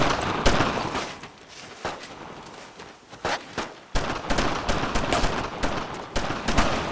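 Rapid machine-gun bursts and single rifle shots crack through a Brothers in Arms: Road to Hill 30 firefight at German barracks, loud and near, in uneven volleys with short lulls between them.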